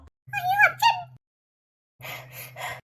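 A cat meows up close twice, a drawn-out cry followed after a short pause by a rougher, breathier call.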